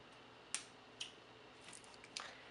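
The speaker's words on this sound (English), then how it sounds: "And then I'm going to snip it." Scissors snipping beading cord on a bead loom bracelet: a few faint, crisp snips spaced out over a couple of seconds in a quiet room.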